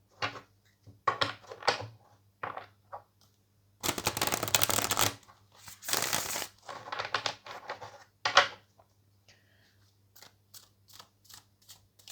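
Tarot cards shuffled in repeated bursts of riffling and slapping, close and fairly loud, with short pauses between bursts and no talking.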